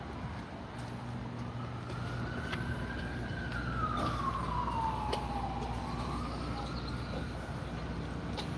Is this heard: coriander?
no